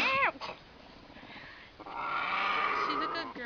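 A puma in heat gives a couple of drawn-out meows, one at the start and another near the end, fairly close, with a steady hiss of background noise between them.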